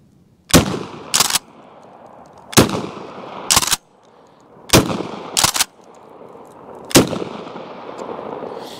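Loud nearby blasts from a KelTec KSG .410 pump shotgun firing 2.5-inch 7.5 Top Gun shells, heard in four spaced pairs of shots with short echoing tails between them and no talking.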